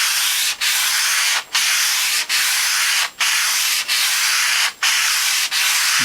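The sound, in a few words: sanding stainless steel juicer top back and forth with grain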